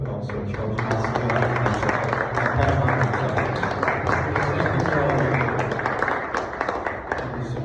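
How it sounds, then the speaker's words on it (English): An audience at an annual constitution conversation event applauds warmly, a dense, sustained patter of many hands clapping evenly from start to finish. "Can we first just give a really warm round of applause"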